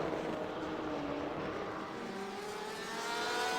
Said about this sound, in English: That BMW looking very, very stable through this.